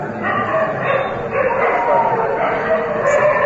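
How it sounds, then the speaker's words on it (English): A dog barks in the background during a spiritual lecture gathering in Dwaraka, Gujarat, India, its yips and woofs muffled beneath people talking over a steady, dense room noise. "I can hear the dog barking"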